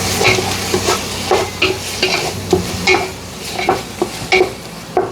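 Onions sauté in a pan for mutton biryani under a steady sizzle, while a spoon scrapes and stirs in repeated close, rhythmic strokes.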